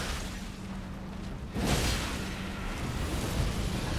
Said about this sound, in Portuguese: Olha lá a explosão